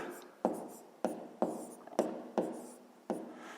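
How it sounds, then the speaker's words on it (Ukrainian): A pen or chalk writes the second step of a fifth-grade math problem in a series of short, crisp strokes, about six taps and scratches in quick succession, close and quiet with no talking. "записуємо друга дія"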